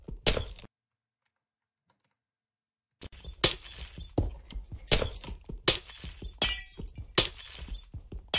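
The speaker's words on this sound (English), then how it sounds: "Yeah, I'm literally digging through glass right now." Glass blocks shattering as they are dug through in Minecraft, one crisp break, a few seconds of silence, then a rapid series of bright, close shattering crashes in quick succession.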